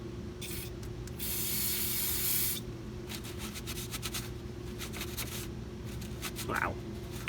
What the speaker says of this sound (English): So let's do that with a clean towel and brake clean.